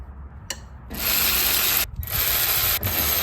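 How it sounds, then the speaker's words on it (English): A ratchet wrench loosening tight power steering pulley bolts on a 100 Series Toyota Land Cruiser, giving sustained close rasping clicks in two long bursts after a brief initial tick, with no talking. "First up, we'll get these power steering pulley bolts out."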